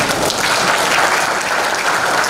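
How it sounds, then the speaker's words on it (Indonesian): Audience applause at a palm oil mill technology and talent conference: dense, steady clapping from a large crowd, loud and sustained throughout with no talk over it. "mari kita tepuk tangan bersama-sama"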